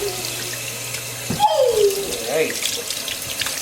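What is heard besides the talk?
water rinsing a puppy during a bath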